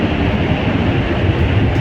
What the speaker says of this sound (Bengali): বুলেট ট্রেন তার গতিতে চলতেছে